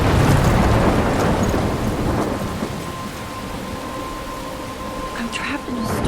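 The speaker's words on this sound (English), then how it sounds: "I'm trapped in a storm." A thunderstorm rages in the video game Life is Strange, heavy rain hissing steadily throughout with a rumble of thunder early on and gusts of wind, loud and enveloping.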